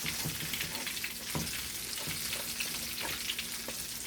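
Ackee and saltfish stuffed Jamaican dumplings frying in a pot of oil, giving a steady close sizzle with small crackles and pops throughout and no talking.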